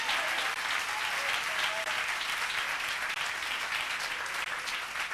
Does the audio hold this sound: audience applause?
yes